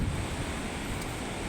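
Strong rushing water at a red jasper gemstone site in the Philippines, a continuous roar of churning flow mixed with wind buffeting the microphone, fairly close.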